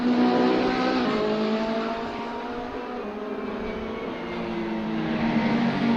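A Ferrari 488 and a Porsche 911R GT3 race car battle at Donington Park, their engines a loud, sustained drone that rises and falls in pitch as they jostle for position.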